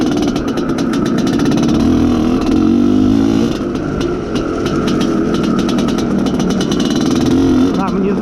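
Izh Planeta Sport motorcycle engine running during break-in, a steady loud mid-pitched drone that holds at a near-constant level with small rises in pitch throughout, close to the machine.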